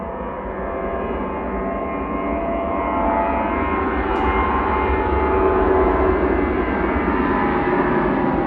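An airliner on its takeoff roll at Manchester Airport gives a loud, steadily building engine roar with tonal whine layered over the rumble, heard alone.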